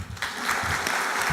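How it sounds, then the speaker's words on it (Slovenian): Audience applause at the national opening of a lifelong learning week festival in Kranj, a steady wash of many hands clapping, moderately distant and fairly soft, continuing throughout. "Aplavz."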